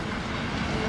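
A train rolls along the Trans-Siberian Railway with a steady, loud rumble and rattle of wagons on the track, continuous throughout with no pauses.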